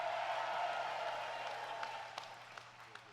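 Distant audience applause at a Moose fraternity convention session, a dense wash of clapping that thins out into a few scattered, separate claps.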